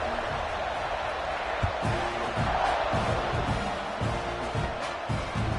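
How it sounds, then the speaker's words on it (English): Stadium crowd noise from an NCAA 26 college football video game, a steady broadband roar of many voices buzzing at moderate distance after a score, with faint scattered thumps and a voice briefly emerging over the din. "this crowd is buzzing after that last score"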